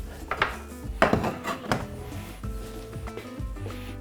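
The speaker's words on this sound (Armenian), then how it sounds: "Տապակված բաղադրիչները լցնում ենք վրան։" Fried ingredients tipped onto rice in a bowl while making onigiri, with a few soft clinks and scrapes of utensils against the dish, close and quiet, clustered in the first half and thinning out after.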